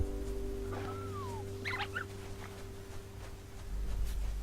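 Badger cubs in the video game Shelter make short high squeaks and chirps, a rising-falling squeal then a quick cluster of squeaks, over a steady low electronic hum.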